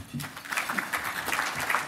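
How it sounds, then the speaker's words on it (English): A conference audience at a Des Moines cybersecurity event applauds a keynote speaker onto the stage, a light patter of scattered clapping with a voice or two mixed in. "Let's give him a round of applause."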